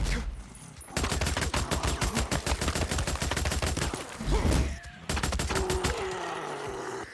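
Rapid bursts of gunfire in Days Gone, a post-apocalyptic open-world game, fired in dense repeated volleys for most of the span with a short pause in between, loud and close, with no talking over it.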